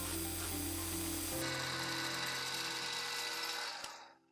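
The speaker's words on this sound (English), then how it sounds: "I can now drill the minor diameter of the thread to the proper depth." A steady, high-pitched drill whines continuously at close range while drilling a thread hole in a metal plate, shifting tone partway through, then winds down and stops near the end.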